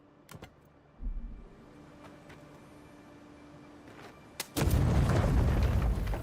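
A grenade blast in the fantasy video game Avowed, a sudden heavy boom with a dense, loud rumble that fills the last couple of seconds, preceded by a quieter thump and faint clicks.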